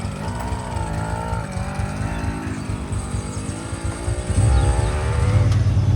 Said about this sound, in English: You know we gotta get some of that two-stroke soundtrack with it actually on throttle.